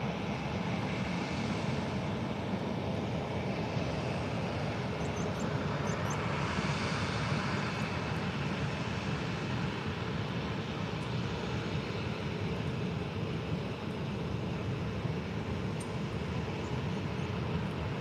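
An Edelweiss airliner arrives at Faro airport, its jet engines making a steady, moderately distant roar that holds evenly throughout with no talk over it.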